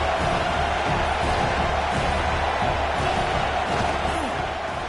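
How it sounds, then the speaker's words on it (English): Dense, steady roar of a large stadium crowd at a college football game filling the whole stretch, loud and continuous without clear peaks. "Listen to the crowd energy here in the early going."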